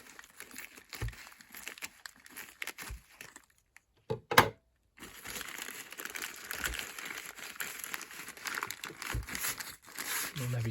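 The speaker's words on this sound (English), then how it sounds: "me struggling to get into the parcel." A plastic parcel without a box crinkles and crackles as it is cut with blunt scissors, producing irregular rustling bursts with a brief sharp snip and a short pause, close and moderately loud.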